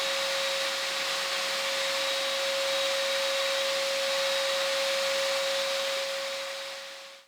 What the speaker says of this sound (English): we're going to do is vacuum up and sweep up, get everything clean first